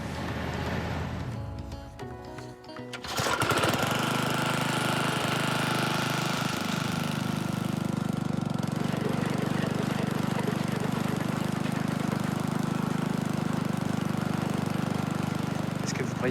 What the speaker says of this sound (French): Intervention du deuxième bombardier, équipé d'une sorte de perceuse géante.